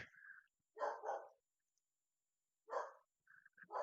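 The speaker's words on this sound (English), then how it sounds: "Bark, bark, bark." A dog barks in two short bursts of a few loud, close barks, separated by a quiet gap, with no talking over it.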